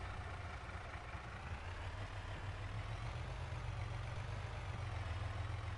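A truck engine in Farming Simulator 22 idles continuously, a low, steady rumble with a constant heavy drone and no other sounds on top.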